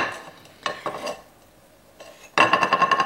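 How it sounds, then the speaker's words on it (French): A spoon clinks and scrapes as it scoops food from containers, in a few short bursts of metallic tapping and rustling, close up, with a denser clatter at the end. "je vais prendre une cuillère de chaque"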